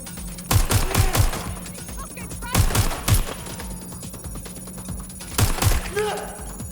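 Automatic gunfire in Watch Dogs: Legion comes in three loud, close bursts of rapid shots over a low background hum.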